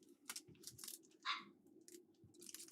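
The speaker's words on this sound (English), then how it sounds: "And that's Rusty barking" A dog barks a few times at a distance, faint and scattered among low background noise and small crunching sounds.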